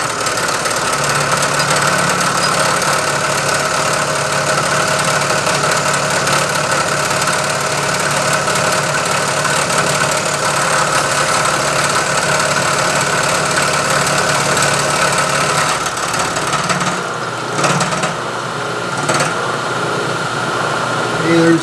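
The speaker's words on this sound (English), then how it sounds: "And then I'll run the end mill against the back side, pick up that surface." An end mill cuts metal on a milling machine while machining a carriage stop body, producing a loud, steady, close mechanical hum and whir that barely changes and then dips slightly near the end.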